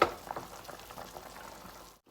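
A pot of sour salmon head soup boils steadily, with close, continuous bubbling and soft popping for about two seconds before it cuts off.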